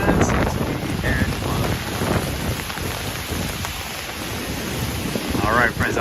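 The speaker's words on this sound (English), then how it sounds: "enjoy the sounds of the city in the rain in this beautiful ambiance" Steady rain falling on New York City streets, a continuous broadband hiss of drops on pavement with faint traffic and wind beneath and brief higher sounds near the start and end.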